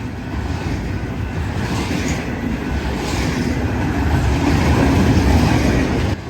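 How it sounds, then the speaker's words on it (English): A Los Angeles to Tacoma Z freight train rumbles past close by heading north, a steady loud roar with rolling wheel noise that builds slightly before cutting off at the end. "we find a Los Angeles to Tacoma Z train thundering north to the crew change"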